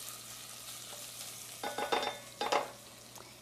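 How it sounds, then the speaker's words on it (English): Red chili flakes and whole coriander seeds sautéing in hot oil in a pan, a soft sizzle under a few louder stirring scrapes near the end, close and without talk. "Then I add some red chili flakes, depending on how much you want. And this is whole coriander seeds. Saute it for a little while."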